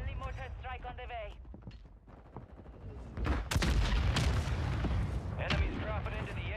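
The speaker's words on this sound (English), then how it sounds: "Friendly mortar strike on the way." A friendly mortar strike in Call of Duty Warzone on Rebirth Island, with a series of loud booming impacts in quick succession, while voices talk before and after the barrage.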